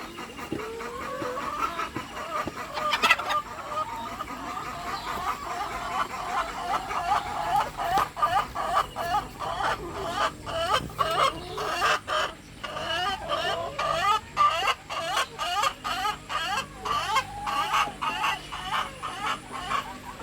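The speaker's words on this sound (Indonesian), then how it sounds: "ada lagi ayam." Laying hens cluck and murmur inside a chicken coop, many birds calling in overlapping, rising and falling phrases, moderately close and growing busier over time.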